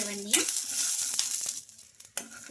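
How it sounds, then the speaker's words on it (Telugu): Garlic cloves, chopped ginger and chillies crackle and sizzle in a hot pan, with short bursts of spattering and stirring scrapes; brief tonal sounds at the start and end break up the close, fairly loud frying. "వెల్లుల్లి రెబ్బలు అలాగే చిన్నగా కట్ చేసుకున్న అల్లం ముక్కలు అయితే వేసుకోవాలి ఇవన్నీ కూడా బాగా కొంచెం ఫ్రై అవ్వాలి"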